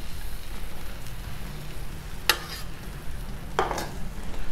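Eggs and chorizo sizzle steadily on a 36-inch Blackstone griddle, a constant bright hiss with two sharp spatula scrapes or clacks standing out midway, no talking.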